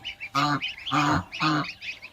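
Young geese being hand-raised, hatched from a clutch of seven eggs, honk and peep in three loud, close calls spaced about half a second apart, with no talking.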